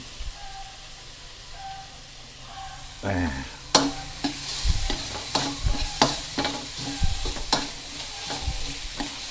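Metal utensil scraping and tossing food in a large hot wok over lowered heat, sharp irregular clanks over a soft sizzle, close and fairly quiet, no talking.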